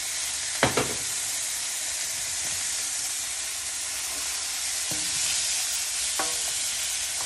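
Beef sizzles and fries in olive oil in a pan as Filipino-style beef nilaga is prepared, a steady loud hiss with a few sharp clinks of a utensil against the pan, no voices.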